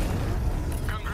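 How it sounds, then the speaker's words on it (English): A controlled bomb explosion in the video game Batman: Arkham Knight gives a deep, sustained rumbling boom that stays loud throughout. A voice speaks over the rumble toward the end. "I can use the power winch to trigger a controlled explosion."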